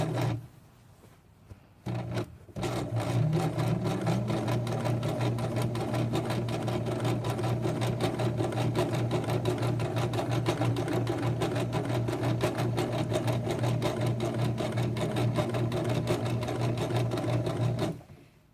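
A sewing machine stitches a tote bag in one long, steady run of rapid needle strokes, close and loud after a brief quiet start, then stops abruptly near the end.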